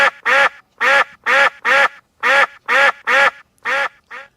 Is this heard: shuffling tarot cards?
no